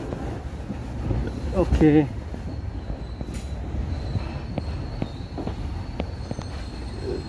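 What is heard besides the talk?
Cibatu joyride train running on rails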